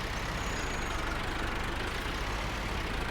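Tractor engine in Farming Simulator 19 during spring fieldwork, a steady continuous drone with a low rumble, idling evenly and close at a constant level with no gaps.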